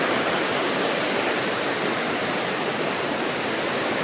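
Low river water flows steadily beneath an old bridge in a village in the Konkan region, a constant rushing hiss with no breaks and no voices.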